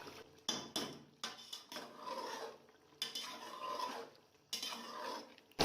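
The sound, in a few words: stirring and frying chicken capsicum curry in a pot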